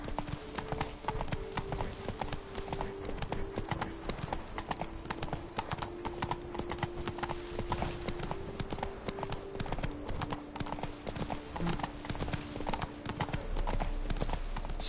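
Hooves of Roach, Geralt's horse in The Witcher 3: Blood and Wine on PS4, clip-clop in a steady, close rhythm throughout, with a faint tonal drone behind and no talking.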